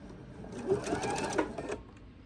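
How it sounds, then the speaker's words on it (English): A sewing machine sews a short diagonal run off the corner of a quilt's binding, one brief steady whir close by. "I'm going to sew off diagonally again"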